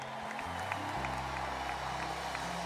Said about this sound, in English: now I want you to give a resounding round of applause to our workforce